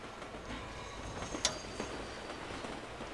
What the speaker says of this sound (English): There's a little train coming in there.